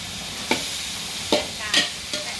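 Pad see ew noodles with sliced pork stir-fried outdoors in Chiang Mai, a soft continuous sizzle broken by four sharp scraping strokes of a spatula against the pan.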